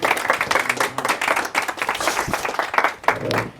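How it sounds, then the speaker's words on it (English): A live audience at a performance claps for a performer named Lou, a loud, uneven burst of hand claps with sharp individual slaps that rises and dips throughout. "Give a big round of applause for Lou."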